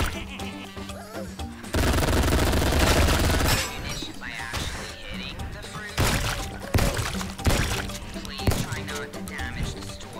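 Bursts of rapid gunfire and crackling impacts in the video game Shooty Fruity, loud and intermittent, mixed with a person talking over the action.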